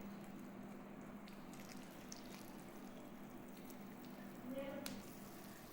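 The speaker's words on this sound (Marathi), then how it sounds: "चिंचेचं पाणी टाकायचे।" Tamarind water is poured over a bhel mixture of puffed rice and spices, making a faint, soft pour and squish with a short louder splash near the end. A voice talks quietly underneath.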